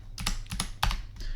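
Rapid typing on a computer keyboard, a quick irregular run of clacking keystrokes with a few sharper hits, close and clear.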